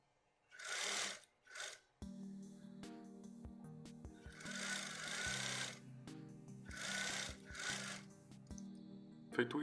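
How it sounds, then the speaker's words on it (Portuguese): A sewing machine runs a plain seam along a shirt sewn from a bedsheet, starting at the underarm crossing and heading to the hem. After a brief pause comes a steady motor hum in stop-start runs, with bursts of rustling hiss on top. "é só você passar uma costura normal até a barra"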